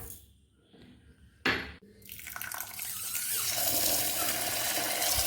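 Raw rice being washed by hand in water, beginning with faint drips and a sharp clatter, then building into a steady rushing, sloshing wash of water that stays loud to the end, close and without talk.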